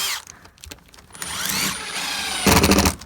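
A screw being driven into a wall to locate a stud behind the surface, heard as a close power-tool whir that rises and falls in short bursts, then a louder, rougher grinding run near the end.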